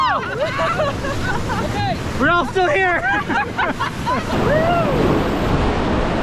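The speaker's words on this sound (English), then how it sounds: "Pretty soon, we were in the rapids." Whitewater rapids on the Sarapiqui River in Costa Rica roar loudly around a raft, with surging water and wind noise as people talk and call out over the rush.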